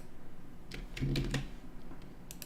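Keys are pressed and a mouse clicks during Photoshop pen tool work, giving a few soft, close clicks and taps in quick succession against a quiet room.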